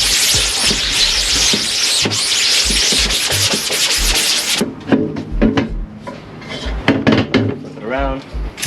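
A screen-printing screen is scrubbed by hand during screen reclaiming, with rhythmic rough brushing strokes, then a pause into sparser scraping, knocks and handling sounds.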